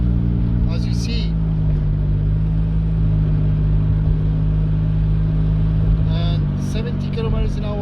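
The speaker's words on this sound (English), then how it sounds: "Now I'm accelerating, as you see," A car accelerates on the road after a shaking-while-driving fix, its engine drone rising steadily under a loud, close voice talking throughout.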